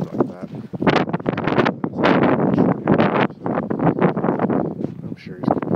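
Strong wind buffets the microphone in a downtown nor'easter snowstorm blizzard, a loud continuous roar in surging gusts, with people talking over it.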